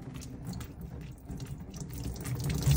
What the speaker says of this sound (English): you're just gonna kind of gently squeeze it, and squeeze that water from the top down to the bottom